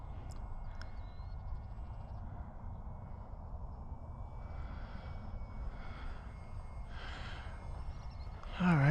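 A model airplane motor drones steadily at a distance in flight, a low continuous hum with faint breathy sounds near the recorder and no clear speech.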